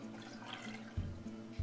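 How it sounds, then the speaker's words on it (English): Tap water runs into a cooking pot being filled with seven cups of water for rice pudding, a soft steady pour that is faint and brief. "We're going to fill a pot with 7 cups of water."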